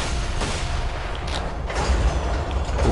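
A heavy cannon fires in Borderlands 2, deep booming blasts with rumbling low end over dense, loud game noise, a few distinct thumps across a few seconds.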